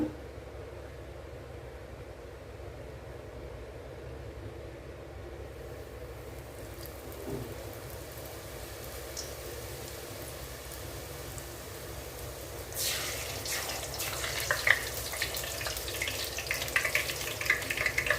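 Hot oil heats in a kadai before frying chole puris, giving a faint, steady low hiss that swells into a brighter, crackling sizzle toward the end.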